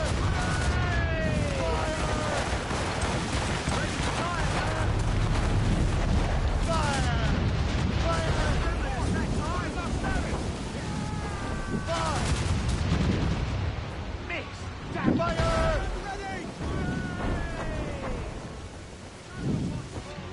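Ship cannons boom in a naval battle in Assassin's Creed Rogue, a dense, continuous barrage of heavy blasts with crew voices shouting over the din and a couple of sharper impacts near the end.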